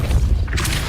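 Depulso force-push spell cast in the game Hogwarts Legacy, a short heavy whoosh and low booming thump lasting under a second, loud and close, with no voices.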